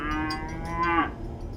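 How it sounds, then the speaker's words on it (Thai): A water buffalo lets out one drawn-out, close, loud low, falling off sharply at the end over a faint background rumble. "ชเอมตัดสินใจไล่ควายกลับบ้านอย่างเร็วกว่าปกติ"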